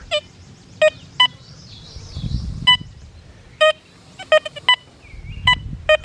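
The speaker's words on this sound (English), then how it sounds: "Now, you hear the tone on the nickel. You hear the tone on the quarter." Short electronic beeps from an XP Deus 2 metal detector with HF2 coil sweeping over a nickel and a quarter recur irregularly, single and in quick pairs, over a low rustling background.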